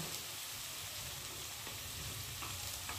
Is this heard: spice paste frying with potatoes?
yes